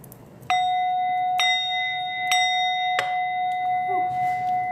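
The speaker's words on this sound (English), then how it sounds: "All right, let's clear the bell." A small bell is struck four times at a steady pace before a tarot reading, each clear ring sustaining a long, pure resonant tone that overlaps the next, close and alone.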